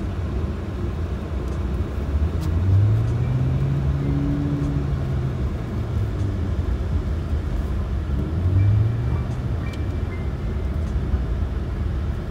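A Ford Focus car being driven and drifted outdoors, with a steady engine rumble throughout and two rising revs around four and nine seconds, heard from a short distance with no talking.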